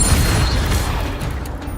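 The Incendio fire spell from Hogwarts Legacy goes off as a loud, dense whoosh with a booming, crackling low rumble that gradually fades.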